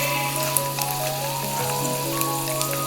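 Byadgi red chillies sizzle steadily in hot oil in a pan, a soft continuous crackle with occasional small pops, close and fairly quiet.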